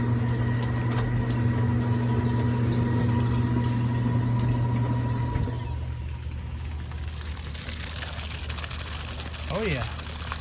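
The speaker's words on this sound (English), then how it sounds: "We are draining." A workshop washing machine drains with a steady mechanical hum and a tonal whine, then shifts to a lower, rougher whirring partway through, with a brief warbling sweep near the end.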